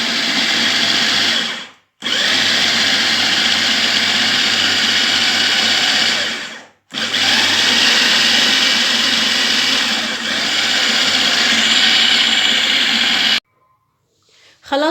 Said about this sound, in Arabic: كل ده هاخده على الكبة وهنفرمه